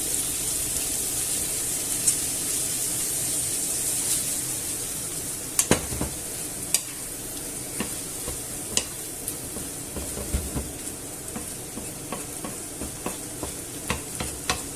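Tuna and tomato pasta sauce sizzles in a pan while a utensil stirs it, with a steady hiss under scattered clacks and scrapes that grow more frequent toward the end.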